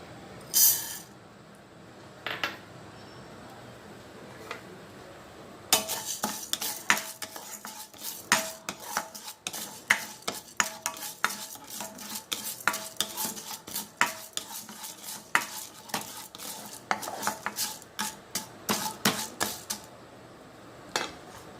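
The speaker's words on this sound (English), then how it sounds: "let us saute urd dal" Urd dal being sautéed in a tablespoon of gingelly oil for a mixed herbal chutney: a spoon scrapes and clinks steadily against the pan for about fifteen seconds over a soft sizzle, close up, with no talking.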